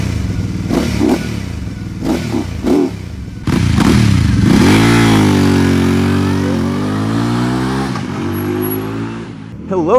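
Benda Napoleon 450 motorcycle engine starts after brief clatter, then revs and pulls away loud and close, its pitch climbing through gears over a rough steady drone; a voice is also present early on.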